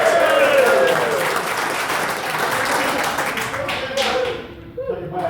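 A crowd at a Rotary Club changeover dinner claps in sustained, dense applause that fades toward the end, with a few scattered claps trailing off.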